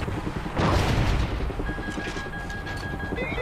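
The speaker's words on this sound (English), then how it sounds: "Good missile." A missile explodes in the Call of Duty: Ghosts video game, a sudden loud broadband boom that rolls into a sustained rumble, with a thin high whine rising near the end.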